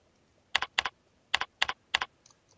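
A computer keyboard types code in short clusters of crisp, close key clicks, about five quick double taps spaced apart, with faint extra taps at the end and no talking.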